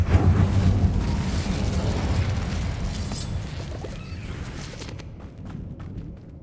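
A fire spell, Incendio, is cast in a wizarding video game: a loud, dense whooshing burst of flame with a booming low rumble that rolls on for several seconds, then thins out and fades near the end.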